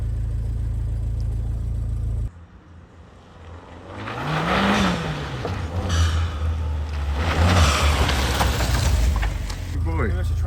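A Fiat Panda 4x4 engine revs and accelerates hard through a corner, rising from a low rumble to a loud, strained drone and back, with voices talking over it.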